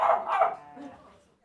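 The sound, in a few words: dogs barking at a cafe in Bristol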